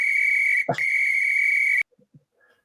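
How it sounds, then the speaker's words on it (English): A whistle blown in one long, loud, steady shrill blast, briefly broken near the start, then cut off sharply into near silence with a few faint soft noises after. "I don't have the flag, but I have the whistle"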